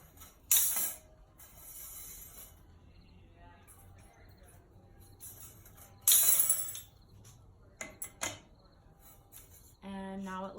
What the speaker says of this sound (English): now I'm going to use bolt cutters to cut the spider off